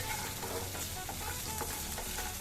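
A sour tomato mixture fries in a pan under steady stirring, a soft, continuous sizzle with light scraping strokes, fairly quiet and close.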